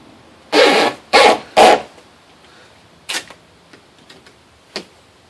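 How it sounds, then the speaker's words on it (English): Duct tape is pulled and applied to the window of a 1999-2005 Grand Am, three quick, loud rips in a row, then a few softer, scattered tearing and pressing sounds close by. "I'm going to duct tape it up in place."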